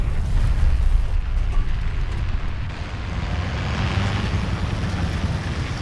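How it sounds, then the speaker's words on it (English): Bombs exploding in a combat video game, a dense continuous rumbling roar of blasts, loud and close, with no speech. "bombs."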